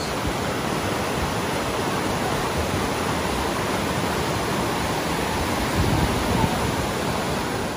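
Steady, loud broadband rush of a fast river close by on the hike to Glymur waterfall in Iceland, constant throughout with no pauses.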